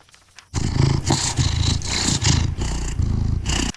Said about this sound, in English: Oh, just listen to that purr.